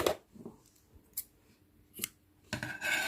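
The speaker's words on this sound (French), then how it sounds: "je vais couper le fil blanc" Scissors snip white crochet yarn on an amigurumi piece in a few sharp, close cuts spaced apart, with quiet handling sounds between them and no talking.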